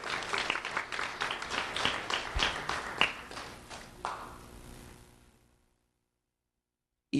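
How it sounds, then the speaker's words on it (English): An audience at a Lee County Sheriff's Office Do the Right Thing recognition ceremony applauds Ian Tyler with a burst of many hands clapping that builds, holds for several seconds, then tapers off into silence. "Let's have a round of applause for Ian Tyler."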